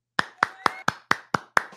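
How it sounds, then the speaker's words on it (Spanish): Seven single hand claps, spaced evenly and close to the mic, during a live stream. "aplauso para mí. Fuerte, fuerte."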